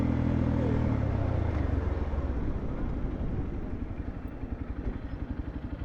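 Motorbike engines race at a racetrack near a city street, a dense loud engine rumble that fades into a rapid pulsing drone, with no voices over it.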